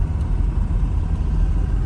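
A neglected diesel Mercedes wagon with a front steering fault and an oil leak, driving along with a steady, loud low engine drone and road rumble heard from close by.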